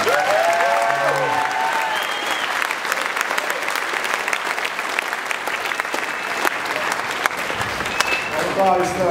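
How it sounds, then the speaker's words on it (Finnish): Dense, loud applause from a church congregation in Finland fills the whole stretch, with a brief voice near the start and more voices rising at the end. "Annetaan aplodit."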